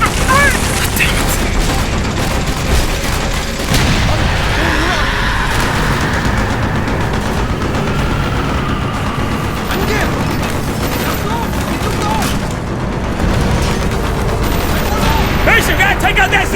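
Dense gunfire and booming explosions from a Vietnam-era firefight in Hue City in Black Ops, loud and continuous throughout, with soldiers shouting over the battle.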